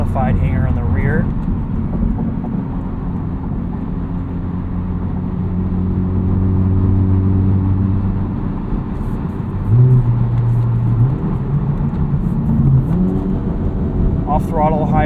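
A 2023 Honda Civic Type R with a muffler-delete MRT Street Race axle-back exhaust revs up and holds high rpm, a loud droning bark rising and falling, with someone talking briefly at start and end.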